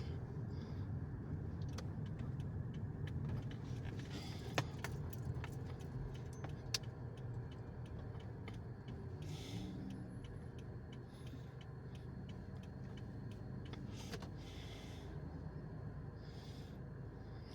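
Truck passing on a road, heard from inside a pulled-over vehicle as a low, faint rumble building and fading across the stretch, with scattered rattles and jangles nearby.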